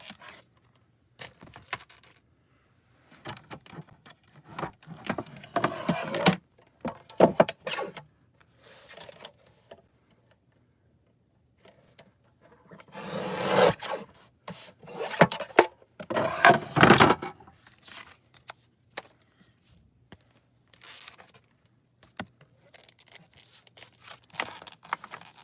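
Foil card is cut down for making Christmas cards, giving scattered bursts of scraping and snipping close by, with quiet stretches between them.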